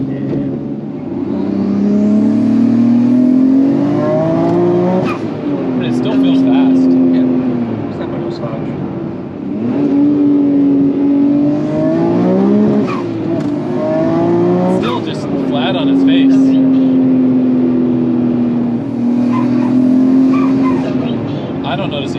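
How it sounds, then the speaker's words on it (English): A Nissan Skyline drives along, its engine drone rising and falling in repeated surges as the turbo flutters and the blow-off valve vents, with a person talking over the steady cabin noise. "I hear the turbo surging a lot over here. Like the blow-off valve has way too stiff of a spring."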